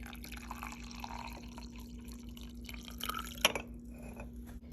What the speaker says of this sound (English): This is now 8 ounces of water that's been heated to 160 degrees going in for the